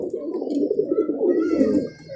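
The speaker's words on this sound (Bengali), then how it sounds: "দাদার দেশি কবুতর, ওড়াই কবুতর, একদম জেনুইন কবুতর" Local domestic flying pigeons in a rooftop loft of about 150 birds give a close, continuous run of soft burbling coos, fairly quiet against a still background.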